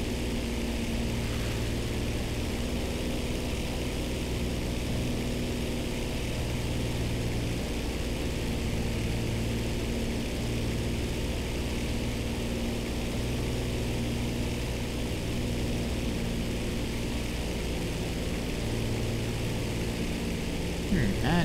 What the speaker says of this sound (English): That's the engine tearing itself apart now.